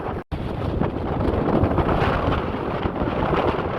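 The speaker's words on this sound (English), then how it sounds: "Windy." Strong gusting wind roars across an open mountain summit in the Lake District near Easedale Tarn, buffeting the microphone with a dense, continuous rush after a brief gap at the start.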